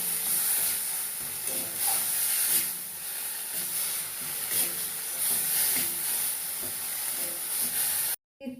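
Garlic, onion-ginger paste and tomato puree sizzle steadily in hot oil as they are sautéed for a Bengali bhola fish curry, a continuous close hiss with faint stirring clicks that cuts off abruptly at the end.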